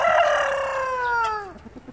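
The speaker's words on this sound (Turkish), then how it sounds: "Bahçede çok ses var. Tavuklar bağırıyor." A rooster crows loudly and close, one long drawn-out call that tapers off, with faint clucking as it ends.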